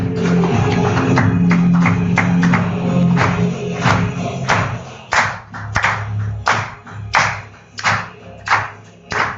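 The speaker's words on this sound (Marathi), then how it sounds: "एकदा जोरदार टाळ्या." At a graduation-day certificate distribution, a small group claps loudly and close in a sustained round that breaks into separate rhythmic bursts as it winds down.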